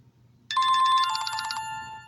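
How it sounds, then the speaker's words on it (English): A mobile phone ringtone sounds suddenly after quiet, a bright electronic melodic ring lasting about a second and a half, close and clear over a faint low background hum. "That's my phone ringing"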